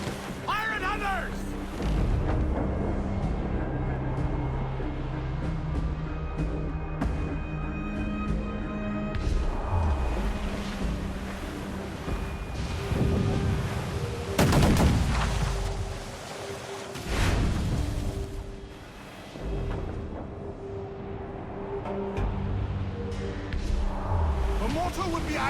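Cannon fire rings out during a naval ship battle in Assassin's Creed IV Black Flag, with repeated heavy booms over churning sea and game music, the biggest blast near the middle, while voices shout commands throughout.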